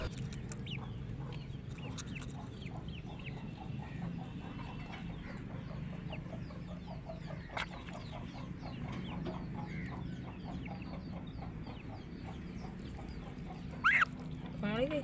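A sick duck makes soft, rapid clucking quacks in a steady, repeated series while people talk quietly nearby; the calls are faint throughout.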